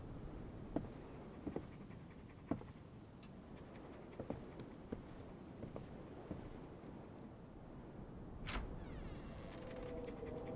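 Rocky the dog in The Pale Mimic, a woodland game, pants steadily and softly in the game sound, with scattered faint ticks and clicks over a quiet background and no one talking.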